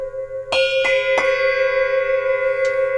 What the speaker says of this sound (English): So those are UFIP ice bells.